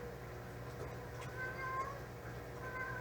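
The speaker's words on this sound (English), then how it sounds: "Here comes the cat in heat." A female cat in heat lets out long, drawn-out meows, two wavering calls in a row at moderate distance over a constant low hum indoors.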